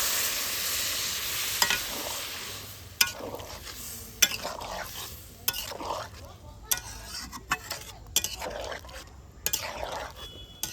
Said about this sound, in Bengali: মশলার সাথে আলু সোয়াবিনটাকে খুব ভালোভাবে কষিয়ে